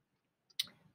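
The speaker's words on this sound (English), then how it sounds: "We are clicking on the pretty pink folder" A single sharp computer mouse click on a folder, close and quiet, with a faint softer tick just before it and no talk.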